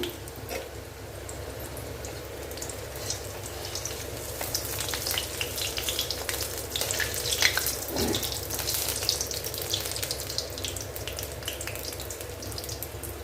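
Masala-stuffed snacks fry in hot oil, a steady crackling sizzle that runs throughout, fairly close, with a brief bump and occasional louder pops midway, no talking.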